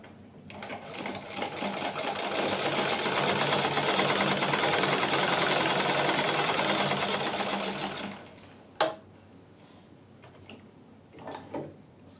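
A sewing machine runs steadily for about eight seconds, tacking stitches on a blouse, then stops; a sharp click and a few faint handling sounds follow in the quiet.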